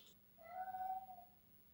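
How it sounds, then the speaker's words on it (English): A single drawn-out meow from a cat, faint and slightly distant, rising and holding for about a second in an otherwise quiet room during a lipstick application session. "Did you hear my cat meow just then?"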